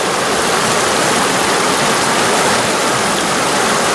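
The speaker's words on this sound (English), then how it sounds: "I'm going to talk loud because this water is so loud." A loud, steady rushing of a Pennsylvania mountain stream, constant broadband water noise filling the whole scene with no pauses.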